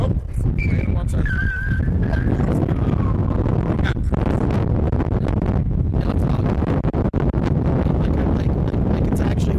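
Strong wind gusts buffet an outdoor microphone, a loud continuous low rumble throughout, with people talking underneath.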